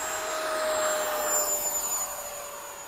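An E-flite 80mm F/A-18D electric ducted fan RC jet flying at sunset, giving a steady whooshing turbine-like whine with a faint high tone, fairly loud and sustained, no talking.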